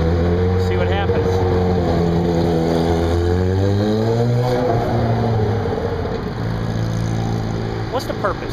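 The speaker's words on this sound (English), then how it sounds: "What's the purpose of the loud-ass muffler?" A vehicle with a loud muffler passes on a road outside Little Rock, its deep, rumbling exhaust close and loud, with a tone that shifts and drops as it goes by.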